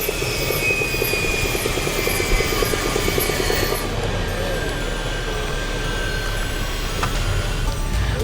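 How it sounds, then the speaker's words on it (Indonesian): A helicopter comes in to land in Indonesia's new capital, Nusantara, East Kalimantan, its loud, steady rotor thumping and turbine whine close by, shifting in tone partway through the descent. "Prabowo mendarat dengan menggunakan helikopter"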